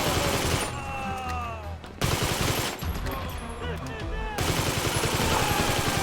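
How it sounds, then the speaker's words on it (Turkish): Rapid bursts of gunfire in GTA 5 crackle continuously, clustered volleys from several directions with brief lulls, loud and near, mixed with game sounds. "Bir yerden vuruyorlar ama nereden göremiyorum arkadaşlar."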